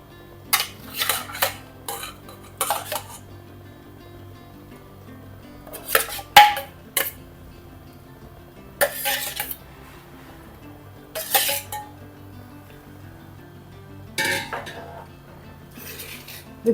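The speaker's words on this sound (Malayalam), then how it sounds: "ഈ തിളച്ച അരപ്പിലോട്ട് ഈ മീനില്ലേ" Kingfish pieces go into boiling curry paste in a cooking pan, heard as scattered metallic clinks and knocks of utensils against cookware. Bursts come in irregular clusters over a quiet background.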